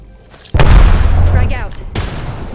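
A loud boom from a grenade in the video game Apex Legends bursts in abruptly and rumbles heavily for over a second, then fades into a lingering tail with a second sharper hit near the end.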